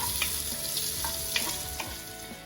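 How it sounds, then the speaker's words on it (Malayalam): About two onions sauté toward browning in a pan, giving a steady close sizzle with a few soft stirring scrapes and taps spread through, and no voices. "ഇവിടെ ഒന്ന് ബ്രൗൺ കളർ ആകുന്നതുവരെ നമുക്കിതൊന്ന് നന്നായി സോട്ട് ചെയ്തെടുക്കാം."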